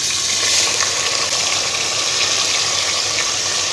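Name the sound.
onion paste frying in hot oil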